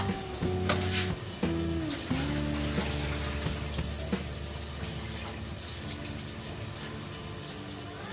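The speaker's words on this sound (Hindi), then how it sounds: "पानी अच्छे तरीके से बॉयल होने लगा है।" Water comes to a boil in a pot for Sindhi chicken biryani rice, giving a continuous bubbling, sizzling wash with a few sharper clinks early on and a steady hum underneath; no talking.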